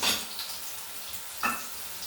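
Sliced snake gourd frying in a pan in a village kitchen, a steady soft sizzle with a couple of brief stirring scrapes.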